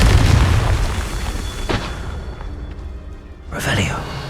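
Confringo explosive spell in Hogwarts Legacy, a heavy booming blast that decays, followed near the end by a second bright burst, with a voice speaking over it.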